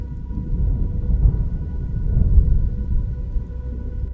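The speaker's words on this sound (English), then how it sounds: "What followed was a low atmospheric rumble that sounded similar to thunder" A low, atmospheric thunder-like rumble rolls on steadily and loud, a deep reverberating roar that swells and eases slightly without any sharp crack.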